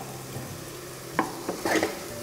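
Konda-pindi leaves fry in ghee in a pan, giving a soft, steady sizzle with a few short scraping stirs near the end.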